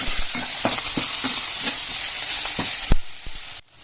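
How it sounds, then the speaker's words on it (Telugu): Coriander is stirred into brinjal frying in a pan, with a constant sizzle under repeated rhythmic spatula taps and scrapes, ending in a louder clatter before the frying noise cuts off sharply. "ఆ కొత్తిమీర వేసుకుందాం కొత్తిమీర వేసుకుని నైట్ కలుపుకుందాం"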